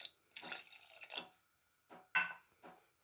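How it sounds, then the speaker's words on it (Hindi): Water pours from a glass into a pressure cooker in a home kitchen, several soft splashing pours in short bursts, faint and close. "इसमें आधा गिलास पानी और डालेंगे हम"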